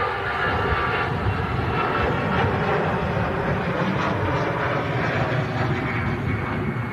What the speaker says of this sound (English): That buzzsaw sound from the CF56 engines as the blades go transonic.